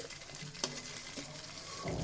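Pangas fish fries in a pan with a close, steady sizzle, broken by a sharp clink and a scraping stir, and no one speaking.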